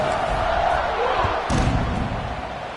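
Stadium crowd in the Madden football video game roaring as the kickoff approaches, a broad continuous swell of cheering with a thud partway through, loud and filling the whole moment.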